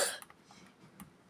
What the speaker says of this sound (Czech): mám trošku kašel